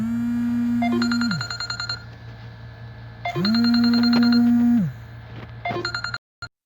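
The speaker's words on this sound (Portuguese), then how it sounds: "o telefone tocou aqui na hora, esqueci de botar no modo avião" A mobile phone ringtone plays during a history class, a bright repeating electronic melody in three bursts over a steady hum, stopping abruptly at the end.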